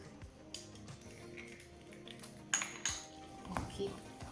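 A utensil clinks and scrapes against a bowl while wonton dumpling filling is mixed with an egg, giving quiet irregular taps with a few sharper clinks near the end.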